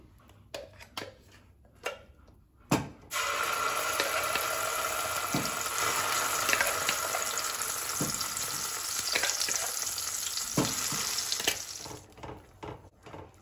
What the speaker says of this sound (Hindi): मसाले को हम अच्छे से मिला लेंगे और 2-3 मिनट साइड से तेल छूटने तक इसे हम पका लेंगे